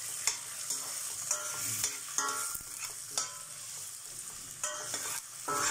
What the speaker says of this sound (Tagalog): Igisa guys. Isabay yung chili guys para aanghang siya guys.